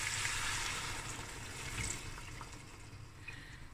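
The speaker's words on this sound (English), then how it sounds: "Now I'm going to add about 3 cups of hot water." Hot water, about three cups, pours into a pot of browning beef stew with mushrooms, baby carrots and baby potatoes, a steady close splashing rush that eases slightly toward the end.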